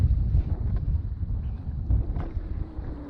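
Westerly wind buffets the microphone aboard a fishing boat drifting while snapper fishing on Manukau Harbour, a steady low rumbling roar with gusty swells and no speech.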